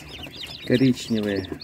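Young Leghorn and Tetra chickens, with brown-and-white cockerels among them, clucking in a brooder. Short clucking bursts come up close over background chatter, with someone talking throughout.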